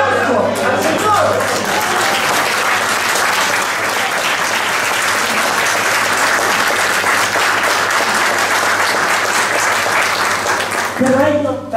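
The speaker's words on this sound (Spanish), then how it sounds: "¡Un aplauso al Señor!" A congregation at a church Easter retreat claps loudly and continuously for about eleven seconds, a dense, even roar of applause, with a voice speaking briefly at the start and end.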